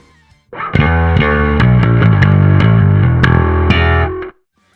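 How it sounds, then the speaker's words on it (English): Distorted electric bass chugs through a quick riff of plucked notes, gritty and loud, cutting off cleanly after a few seconds. "And with some distortion."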